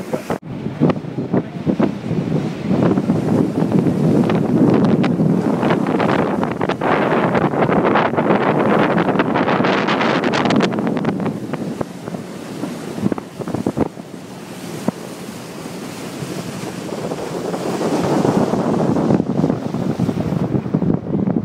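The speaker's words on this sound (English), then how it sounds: "Those northwesterly winds easily double in speed from whatever they blow out on the open coast as they're funneled down the narrow confines of the fiord" Strong northwesterly wind funneled down the narrow Milford Sound fiord, loud continuous roaring gusts buffeting the microphone with rushing water and surf beneath, easing briefly midway before building again.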